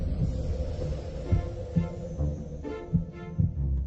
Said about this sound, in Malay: Denyutan jantung